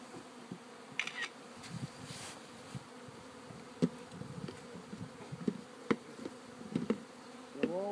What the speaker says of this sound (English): So all these bees flying around there, they're not going to go from hive to hive, right?